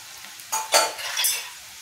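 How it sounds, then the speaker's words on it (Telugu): Colocasia leaf pakodi with peanut bits fries in hot oil, short bursts of bubbling sizzle swelling up as the fritters go in, close and fairly loud. "ఇది బాగా బ్రౌన్ కలర్ వచ్చేదాకా వేపించుకుందాం."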